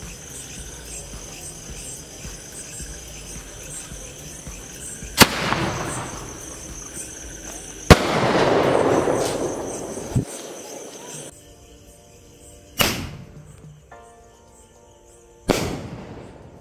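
Cock Brand Penta Sky Flash green mini sky shots fire outdoors, with several sharp launch pops each followed by a crackling, hissing burst that trails off, separated by quieter gaps of background noise.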